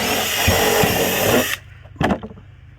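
A power drill whirs steadily for about a second and a half while driving a bolt through a plastic barrel, then stops; a short second burst follows, with a faint low hum underneath.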